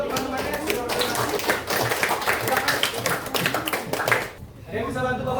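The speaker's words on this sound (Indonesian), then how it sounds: "Yuk, tepuk tangan lagi sekali lagi untuk teman-temannya" A classroom of children claps together in a dense, sustained burst of applause, loud and close, fading briefly near the end before picking up again.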